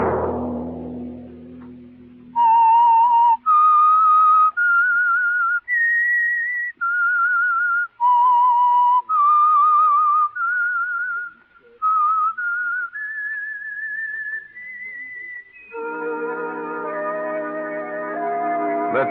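A person whistles a slow melody of clear, sustained notes, stepping up and down in pitch, ending as an orchestral chord swells in.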